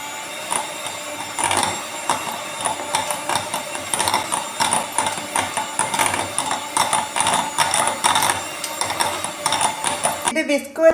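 Butter and sugar beaten together in a bowl for maska buns, a continuous busy whirring and clattering churn, loud and close, with someone speaking over it.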